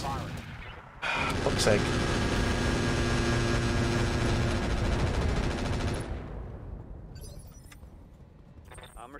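Incendiary weapons firing in the modded Battletech game Roguetech, a sudden loud sustained barrage of blasts lasting several seconds and then fading into a rumbling tail, with a man swearing.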